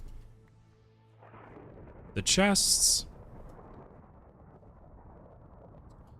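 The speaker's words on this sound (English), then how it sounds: "Sounds like there's quite a thunderstorm going on outside the base, in-game." A thunderclap from an in-game thunderstorm in the Minecraft ATM 9 modpack: a loud sudden crack and rumble lasting about a second, with someone speaking briefly just before it.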